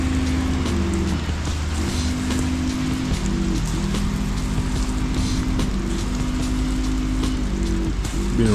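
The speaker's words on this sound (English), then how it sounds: "A little sprinkle, which I'll take because it's been so hot." Steady light rain sprinkles across an outdoor area around a house during a hot spell, a dense continuous patter with a low rumble beneath it, close and fairly loud with no voices.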